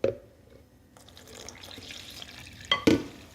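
Liquid poured into a well in 500 grams of semolina while making pizza dough, a faint trickle and splash close by, ending in a couple of sharper drips and a clink.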